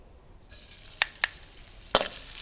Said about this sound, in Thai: กระทะเอาพริกลงไปผัดนะจ้า